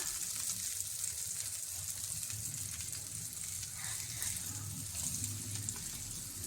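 Food frying in a pan just after being flipped over, a steady close sizzle with soft crackle running throughout, no voices.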